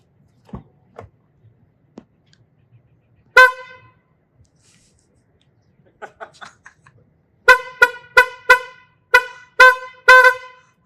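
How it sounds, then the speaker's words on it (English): Several loud, bright car horn honks from a 2023-2024 Honda CR-V with an upgraded horn, some short and some held, arrive in quick succession after a few quiet clicks and thumps. "I'm going inside to honk."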